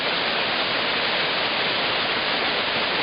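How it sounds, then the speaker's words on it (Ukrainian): Shepit waterfall, about 10 to 12 meters high, pours in two channels through rock into a basin, heard up close from its top as a steady, dense, even rushing roar with no voices. "Ми знаходимося на верхній частині водоспаду Степів. Це основний водоспад."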